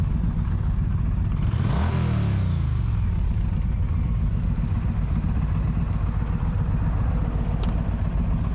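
A Harley-Davidson motorcycle engine revs in a Harley versus Indian matchup, a loud continuous roar with a rising and falling sweep early on, heard from close by over steady rumbling.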